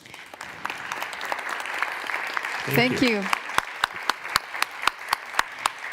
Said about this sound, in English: a big applause for our dear colleagues